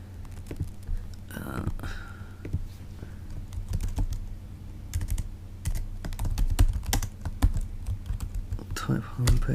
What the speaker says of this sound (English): type homepage for now